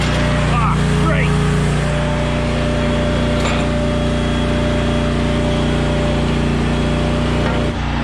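The small gas engine of a Brownie unit runs just after refueling, giving a loud, steady droning hum that holds without a break from start to finish.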